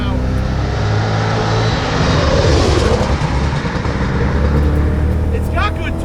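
A track-prepped Ford Crown Victoria accelerating uphill, its engine droning loud and close with a steady rising roar throughout.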